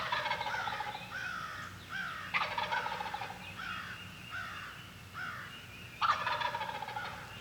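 Eastern wild turkeys gobble on a spring morning, sending out about half a dozen rattling calls at uneven intervals. Some are closer and louder, over a soft outdoor background.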